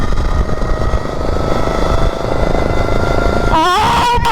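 A fast modified lawn mower engine running hard at speed, a steady loud droning roar throughout, with a brief rising whine near the end and no talking over it.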